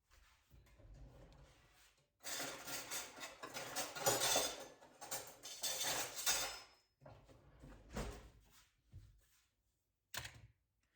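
A block of cheddar cheese is grated in a kitchen, rapid scratchy rasping strokes in a few bursts of several seconds with short pauses, close and fairly quiet, interspersed with light clinks and handling.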